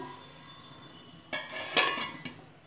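A metal lid is set onto a cooking pot of jujube chutney, making a few sharp clinks and a short clatter after a quiet stretch, close by.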